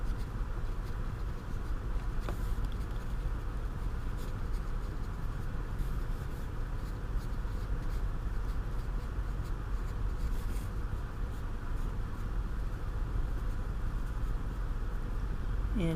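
A light 3H pencil scratches steadily across paper in continuous close strokes, a dense, even rasp that runs throughout with no talk over it.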